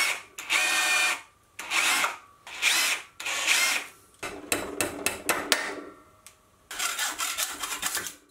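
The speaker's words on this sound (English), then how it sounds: "I'm going to drill all the way through it and add a pin and rivet it in place." Repeated bursts of power drilling through a metal insert on a mill, each lasting about a second with brief pauses, followed by a quicker stuttering run and one longer burst.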